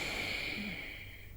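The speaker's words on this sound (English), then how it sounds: "Deep inhale with the right nostril and exhale with the left nostril." A single soft, steady breath drawn through one nostril during alternate nostril breathing practice in a yoga session, faint and airy, heard alone for a little over a second.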